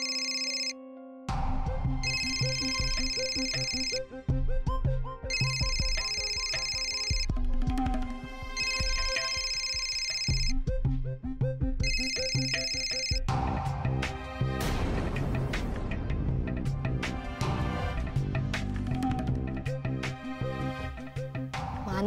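A phone ringtone plays as a repeating electronic melody that continues for a long stretch, with a musical backing swelling partway through and no speech.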